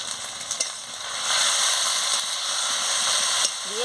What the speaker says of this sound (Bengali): এবার আমি এলাচটাও দিয়ে দিচ্ছি